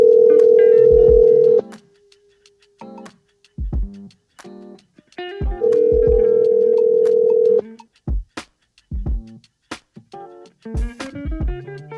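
A telephone call goes out: a steady dial tone gives way to a quick series of dialing beeps, then a ringback tone sounds, followed by more scattered electronic beeps and clicks, all clear and close with no voices.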